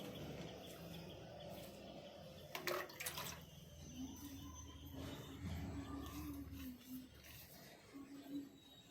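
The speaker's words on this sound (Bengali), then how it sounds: "এখন লাগানোর পরে একটু জল দিয়ে দিচ্ছি" Water is poured over newly planted vegetable seedlings in a garden bed, making a faint splashing trickle, with birds chirping softly in the background.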